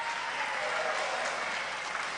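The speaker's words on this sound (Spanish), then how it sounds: "Está muy bien que aplaudan." Dense, sustained applause from a large audience at a formal opening session of congress in Argentina, a continuous roar of clapping filling the hall.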